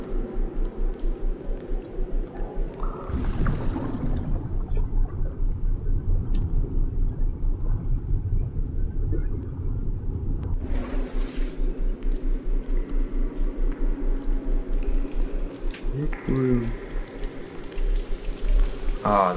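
Footsteps wading into water in Dear Esther, a sloshing, rushing swell that rises and falls across the clip, with low ambient rumble and no talking.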